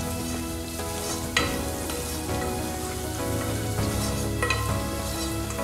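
Spice tempering for rice ukad with turmeric frying in hot oil, a steady close sizzle and crackle running throughout with a few sharper pops and spits, with no talking.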